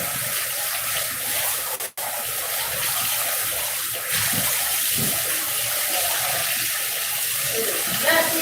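Henna is rinsed off hands under a steady stream of running tap water, a loud, continuous splashing rush that fills the whole stretch apart from one brief cut.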